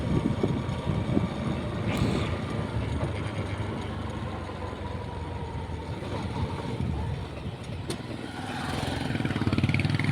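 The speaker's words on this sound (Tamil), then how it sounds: "ஆஃப் கிளச்சில் இருக்குது வண்டி ஆஃப் பண்ணிடாத" A motorcycle with a wiring fault rolls along a country road on half clutch, a continuous engine drone with wind rush and mechanical rattle heard from the rider's position, with no voices.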